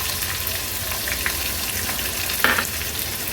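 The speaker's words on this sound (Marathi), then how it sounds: "कांदा आणि मिरची फोडणीवर छान परतून घ्यायची" Onion and green chillies fry in a mustard-seed and cumin tempering on a low gas flame, a constant close sizzle with occasional stirring clinks and a sharper scrape near the end.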